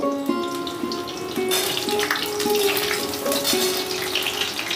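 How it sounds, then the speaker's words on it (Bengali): Pumpkin and ridge gourd pieces fry gently in hot oil over a low flame, a steady, close sizzle with soft clinks and a faint tonal hum underneath. "এইবারে আমি কুমড়ো আর ঝিঙেটাকে একটু আলতো করে ভেজে নেব"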